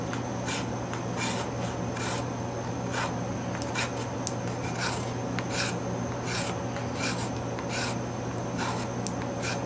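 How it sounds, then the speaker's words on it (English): The 90-degree spine of a knife scraping resinous fatwood, steady rasping strokes repeating in a fast rhythm, close and fairly loud against a constant background hum. "you can use your knife to actually scrape this"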